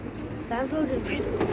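Pigeons coo softly amid a gathering where about 480 birds are about to be released in Mustafakemalpaşa, their murmurs mixed under a man's loud speech and crowd noise.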